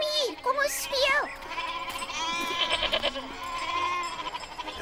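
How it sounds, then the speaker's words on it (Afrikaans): Goats bleat loudly up close on a mountain pasture, several wavering cries in quick succession, while a voice and other talk mix in over them. "Hy bring hulle altyd hiernatoe, al die bokke, die tyd van die dag."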